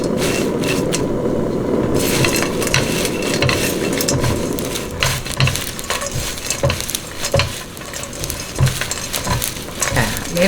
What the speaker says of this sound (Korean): 이렇게 해가 살살 볶아줘야 멸치의 비린맛이 없어지니까